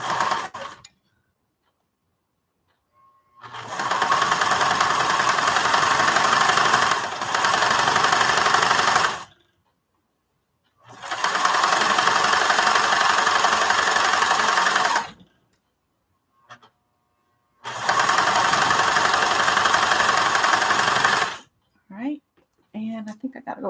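Sewing machine stitching across the bottom of a fabric project bag: three steady bursts of fast mechanical stitching of several seconds each, separated by pauses, close and fairly loud, with brief bits of voice at the edges.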